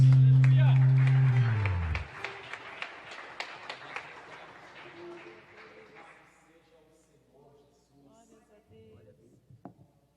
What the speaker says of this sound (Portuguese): as palmas engrandecem o nome do Senhor Jesus